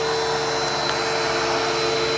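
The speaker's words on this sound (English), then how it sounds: "Vacuum." A vacuum cleaner runs steadily and loud at close range, its motor giving a constant whine and hum throughout with no talking.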